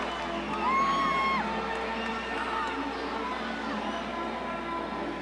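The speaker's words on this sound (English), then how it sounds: "The crowd is going wild" Crowd noise at a live fight night during the final round, a broad roar with whoops and shouts rising and falling beneath a voice speaking over it.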